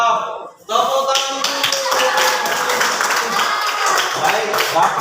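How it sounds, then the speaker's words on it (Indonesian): Classroom students clap together after a class agreement is signed, a dense, steady burst of hand claps that starts after a brief pause and carries on with voices mixed in. "Tepuk tangan."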